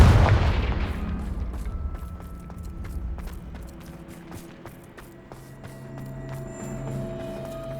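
Confringo explosion spell in Hogwarts Legacy, a single heavy boom at the start that decays into a rumbling tail, followed by light footstep ticks and a soft ambient drone.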